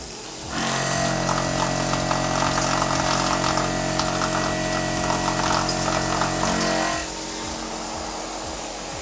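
A Tormach Superfly fly cutter milling 6061-T6 aluminum at 50 inches a minute gives a steady, loud whirring cut with a ringing metallic tone, lasting about six seconds before dropping back to the quieter spindle hum.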